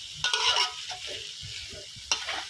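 A wok stir-fry with a splash of broth added: sharp spatula scrapes and clanks against the pan over a soft sizzle, close and irregular, no voices.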